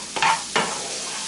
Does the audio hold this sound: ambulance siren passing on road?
no